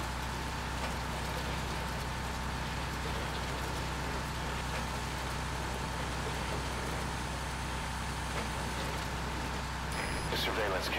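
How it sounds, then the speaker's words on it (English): A truck ride in the Metal Gear video game: a steady, unbroken engine drone and rumble runs throughout at an even loudness, with no voices over it. "Riding in a truck ever since Metal Gear 1."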